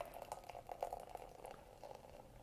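Finback Brewing Miasma black ale being poured, a faint, close foamy bubbling and fizzing with soft gurgling pulses.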